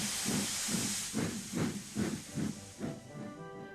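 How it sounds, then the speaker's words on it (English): Cartoon steam engine on a railway track, loud hiss followed by a rhythmic series of about eight chuffing puffs, alone with no talk. "Who's that puffing along the track?"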